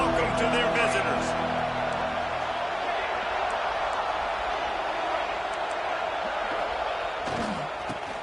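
Loud, dense stadium crowd roar in an NCAA football video game, a steady wall of cheering for the visiting team that holds from start to end, with a few sharper bursts and a commentator's voice over the first seconds.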